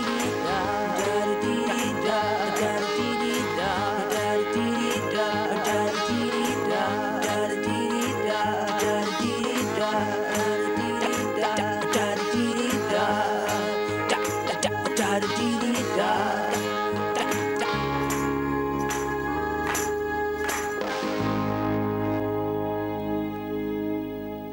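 Original ending of a studio record's outro played back: a full band mix runs loud and continuous, then drops to a held chord and a final sustained tone that fades out, with no talking.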